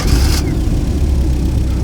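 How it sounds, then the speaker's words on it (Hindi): A car engine runs loud and close, a steady mid-pitched drone with a brief brighter hiss at the start, suggesting a vehicle pulling away in a horror story. "गाड़ी में बैठ जाता है और वहाँ से निकल लेता है"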